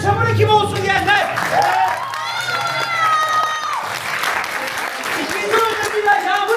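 An audience at a Turkish improv theatre show claps and cheers, a lively crowd with children shouting and voices rising over continuous applause.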